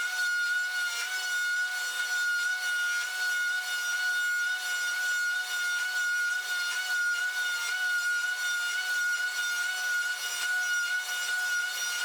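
A milling machine cuts a solid beech workbench leg, giving a steady, loud, continuous whirring grind with a constant high machine tone, unbroken for the whole stretch.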